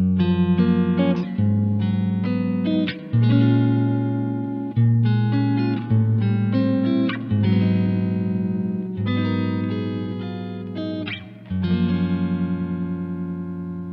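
A guitar played through a spring reverb pedal with optical sensors set to optic mode, strummed chords and picked notes ringing out with a splashy, lingering reverb tail, loud and close, with no voice.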